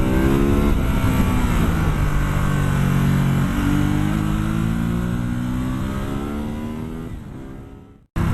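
A Ducati Supersport S motorcycle revs loud and close, its engine note climbing in a long sustained acceleration, then cutting off abruptly at the end.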